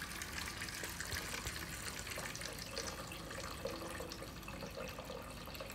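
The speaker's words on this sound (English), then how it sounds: "If I turn that knob to drain, it will start draining." Water drains steadily out of a Twin Spin XPB36-388S twin-tub washing machine, a continuous close gushing, splashing rush with no pauses and no talking.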